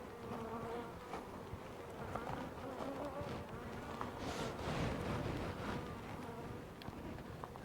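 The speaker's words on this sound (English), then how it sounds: "They all seem pretty happy and working like heck to get those beehives full of honey." Bees buzz around beehives in desert country, a dense continuous drone of many insects with individual buzzes swelling as they pass near the microphone, alongside faint wind noise.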